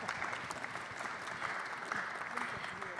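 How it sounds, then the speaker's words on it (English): An audience at a panel discussion on Dutch housing gives a steady round of applause, with many hands clapping continuously at moderate volume throughout. "Could we please have a round of applause?"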